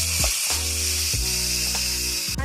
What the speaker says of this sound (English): Now you want to continue to let your ground beef cook until it's brown all the way through.